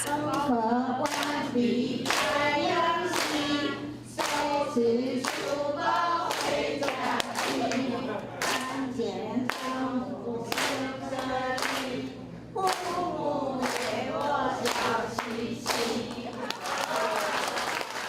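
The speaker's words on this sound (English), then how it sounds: "After singing and receiving applause, these volunteers conclude the evening" An audience applauds volunteers after their singing performance, with scattered, uneven clapping mixed with voices talking and calling out nearby.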